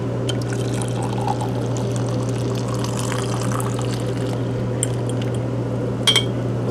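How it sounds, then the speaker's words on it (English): Coffee draining from a V60 pour-over dripper set in a sink, a soft continuous trickle over a steady low hum, with a few faint clinks and a brief sharper tap near the end. "Put that in the sink, let it drip the rest out."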